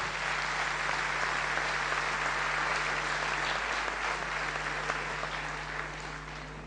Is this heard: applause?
yes